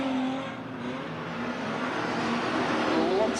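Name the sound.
street stock race car engine at Hobart Speedway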